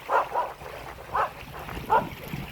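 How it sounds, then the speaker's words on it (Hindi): A dog whimpering and yipping outdoors on a trip to Haridwar, three or four short high whines spaced apart over a low background rumble, fairly close. "इस कुत्ते को बहुत गम लग रहा है, बहुत गम रहा है"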